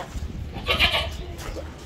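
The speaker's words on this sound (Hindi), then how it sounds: "भाई के हाथ में जो बकरा है मैं दिखाना चाहता हूँ आपको" A Sojat goat with big horns bleats once or twice at a goat farm, a short nasal call heard close by over a noisy outdoor background.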